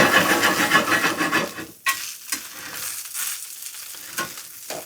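A breakfast item fries in an oiled pan, hissing with a dense, steady sizzle that gets louder when more oil is added and the food slides back in, followed by a few scraping clatters and a quieter crackle.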